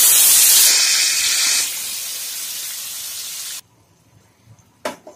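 Chicken pieces drop into hot oil in a pan while cooking Angara chicken, setting off a loud, steady hiss and sizzle that fades and cuts off, followed by a faint clatter.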